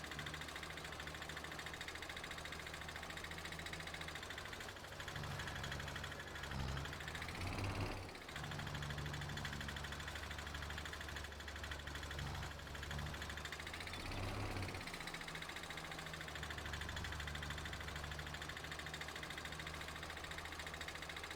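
Small lizard-green tractor engine in Farming Simulator 22 pulling a small rake, a steady low mid-pitched hum with faint knocking, running continuously at even loudness with two brief rising revs.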